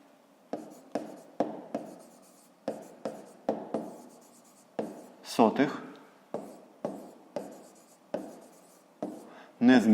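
Handwriting on paper during a 5th-grade math exercise: a steady series of about a dozen short, close pen strokes in an even rhythm, with a brief vocal sound near the middle and at the end.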